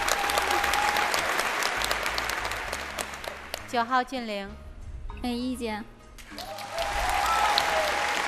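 A studio audience on a Chinese TV dating show breaks into loud, sustained applause that dips while a person speaks briefly in the middle, then swells again.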